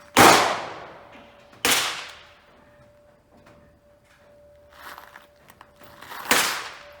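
Three sharp, loud reports ring out from an Enfield No.4 Mk1 rifle, two close together and a third after a long pause. Each crack is followed by a short decaying echo, with faint handling noise in the gap.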